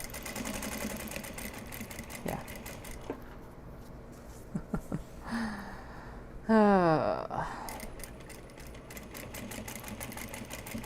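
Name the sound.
sewing machine doing contrast top stitching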